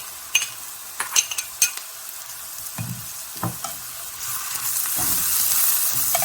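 Two cloves of minced garlic sautéing in a pan: a steady, close sizzle that swells and grows denser toward the end, with sharp clinks and scrapes of a utensil against the pan early on and no talking.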